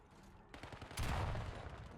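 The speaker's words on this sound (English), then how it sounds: "It is a concussion grenade." A concussion grenade detonates in Black Ops 7 with a loud, sharp burst that swells into a sustained roar, preceded by scattered gunfire-like cracks.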